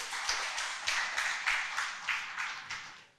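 Faint, evenly spaced claps in a slow rhythm from the audience at an energy talk event, each clap distinct and the pattern fading slightly at the end.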